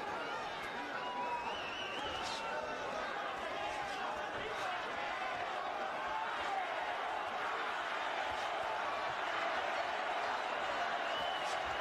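A boxing arena crowd at the Canelo Alvarez vs Alfonso Gómez fight cheers in a continuous, distant roar, with a commentator talking over it.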